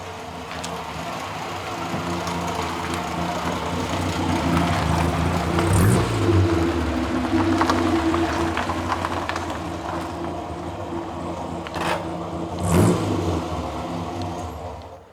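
Austin pickup truck on a winter drive, steady droning engine and road rumble from inside the cab, with a couple of brief rising passing swells, no talking.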